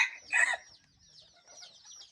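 Chickens on a hillside farm on a cold morning: one loud burst of clucking up front, then softer, scattered clucks and calls trailing off, with no talk.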